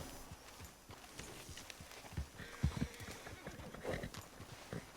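Horse hooves clip-clop at a walk in Red Dead Redemption 2, a steady near rhythm of soft thuds under game ambience, with a voice speaking over them.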